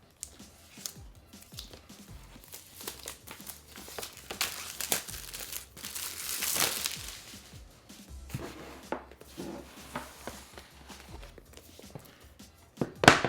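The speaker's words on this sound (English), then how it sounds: "So let's go ahead and unbox this." Apple iPad Smart Keyboard Folio packaging being unboxed: irregular crinkling, rustling and sliding of cardboard and plastic wrap close by, with a louder tearing swell midway and a sharp bump at the end, no speech.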